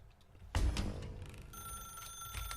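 A telephone rings in the video game The Stanley Parable, starting with a sudden thump and then a sustained bright electronic ring over low ambient hum, close and fairly loud, with no speech.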